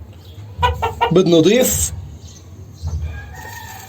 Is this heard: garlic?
no